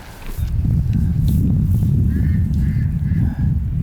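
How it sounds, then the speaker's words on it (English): Ducks on a miniature farm quacking beside a disc golf course, a few honking calls rising over loud outdoor rumble and wind, moderately close. "those ducks are quacking"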